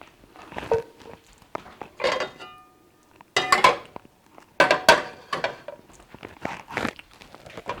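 Ground meat is stirred into a sour cream beef noodle casserole mixture, with bursts of spoon scraping and clinking against the bowl separated by short pauses, close and moderately loud.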